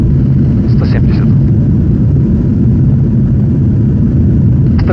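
The engines of an An-124 Ruslan roar steadily in reverse thrust during its landing rollout, a loud, constant low rumble filling the whole stretch, with faint cockpit voices barely showing through the noise.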